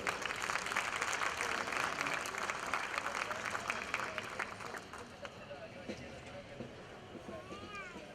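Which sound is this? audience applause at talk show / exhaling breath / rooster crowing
audience applause at talk show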